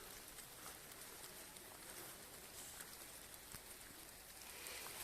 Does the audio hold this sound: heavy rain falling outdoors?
yes